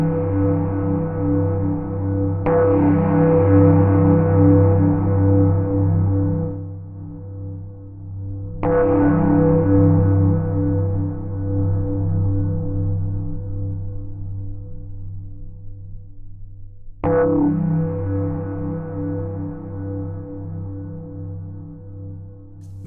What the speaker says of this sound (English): The rise control changes how the reverb develops.